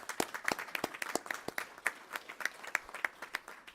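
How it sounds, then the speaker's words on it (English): A small audience at a school board of education meeting claps in a thin, distinct patter, with individual claps audible, fairly faint and brief. "Please join me in giving him a round of applause."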